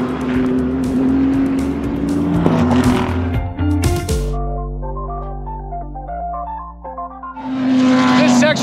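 GT race cars of the GT World Challenge Europe at the Paul Ricard circuit scream past at speed through turns 1 and 2, engines loud and close with falling pitch as each car sweeps by, then another rising approach.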